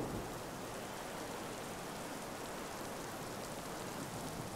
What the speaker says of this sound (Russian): Дождь.